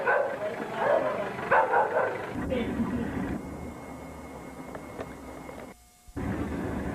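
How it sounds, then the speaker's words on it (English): A dog barks repeatedly in short bursts on old VHS tape footage, over a constant hiss from the tape, with a brief dropout in the recording near the end. "The incessant dog barking, the weird children, the man sleeping, it's all bizarre"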